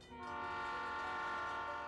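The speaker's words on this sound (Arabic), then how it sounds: "فجأة يصفر صوت قطرك اللي جاي" A train horn sounds as one long, loud, sustained blast with steady layered tones, rising quickly and holding for the whole moment with no voices.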